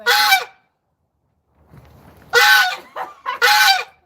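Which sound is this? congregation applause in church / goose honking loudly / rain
goose honking loudly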